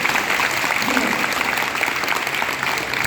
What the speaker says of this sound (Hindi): अब तालियां जोर से बजाना